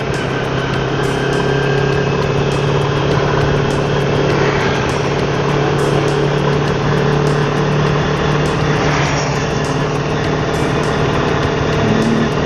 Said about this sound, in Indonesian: knalpot R25 ya bro,